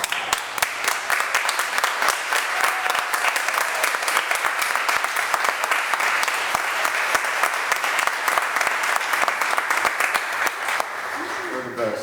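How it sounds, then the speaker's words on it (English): Sustained applause from an audience at a fundraiser for Ukraine, dense and steady clapping for about eleven seconds before fading, with a voice talking briefly at the end. "we'd like to give you guys a standing ovation"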